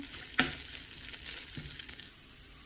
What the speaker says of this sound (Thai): ผัดพริกแกงเผ็ดกับกะปินะคะ ให้หอม